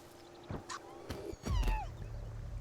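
A cat meows a few times in the middle distance, thin rising and falling cries over a low background hum, with scattered clicks and thuds nearby.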